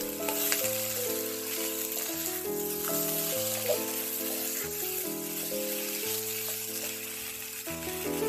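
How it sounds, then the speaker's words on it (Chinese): Celery and five-spice tofu stir-frying in a wok give a constant, even sizzle under prominent background music. "再放入红灯笼椒丝、葱绿，翻炒一会儿。"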